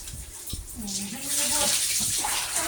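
Water splashes and pours in uneven bursts, growing louder toward the end, with a voice briefly crying out amid the splashing.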